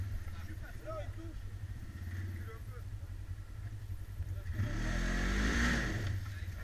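An off-road vehicle on an enduro trail, with tyres packed with mud, revs up loudly after talk. The engine rumbles under voices at first, then swells into a strong close roar near the end.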